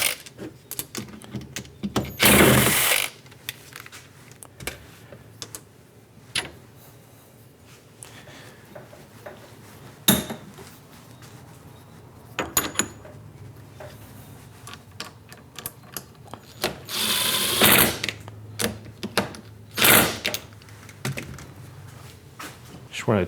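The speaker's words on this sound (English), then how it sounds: "So let me take this jaw off and move it to the outside." Metal vise jaw removed from a machinist's vise and shifted to the outside position while setting up to machine a spindle mount, giving scattered clanks, scrapes and clicks with a few louder knocks, close by in a quiet shop.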